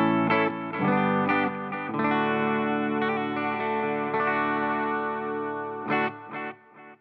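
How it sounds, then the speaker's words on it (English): Distorted electric guitar chords through a Bluguitar Amp 1 ring out with a wash of reverb and echoing delay, sustained and layered, with a few sharper strums near the end. "now you hear I do have some reverb and delay in the chain"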